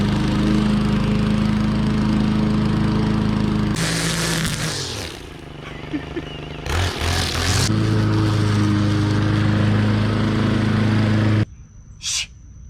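Honda HRX 21-inch walk-behind lawn mower cutting grass on a steep hill, its engine droning steadily and loudly throughout with a few dips and surges in load, close up and without talking.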